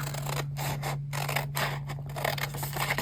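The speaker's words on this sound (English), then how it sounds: "I do want to cut it here" Scissors snip through fabric while pockets with lids are being sewn, a series of close, crisp cuts in an uneven rhythm over a low steady hum.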